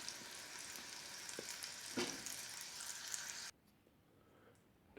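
A crunchy taco fries in oil in a pan with a loud, even sizzle and a brief bubbling surge, then drops abruptly to near quiet.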